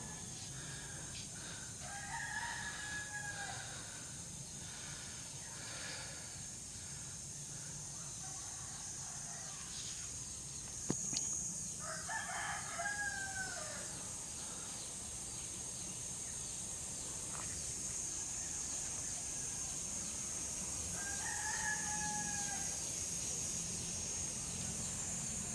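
Chickens around a rural Filipino home in the morning, with a rooster crowing a few times at moderate distance over steady insect buzz and faint background noise.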